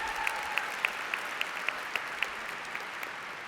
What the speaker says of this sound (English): And yes, you should applaud.